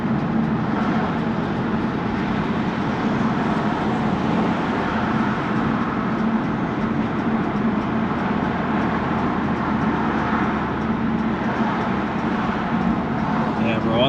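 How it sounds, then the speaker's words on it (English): Heavy city traffic while driving an Alfa Romeo through Miami, a steady, loud rumble of engine and road noise from inside the car. "There is a lot of traffic though, I ain't gonna lie. Heavy traffic"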